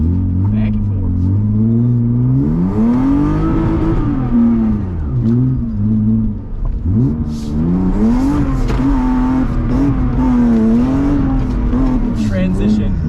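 A drift car's engine revs and swells through a slide with the throttle barely open, pitch rising and falling continuously and loud, with voices talking over it throughout.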